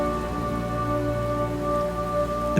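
Steady rain pours down in a continuous patter, layered with sustained tonal hum and soft pad-like tones that sit beneath it, no voices present.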